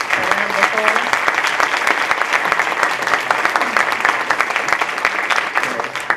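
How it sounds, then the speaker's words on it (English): Audience applause for panelists at a women-in-entrepreneurship event, dense steady clapping filling the room for the full stretch, loud and close with faint voices mixed in. "Let's give our panelists a round of applause."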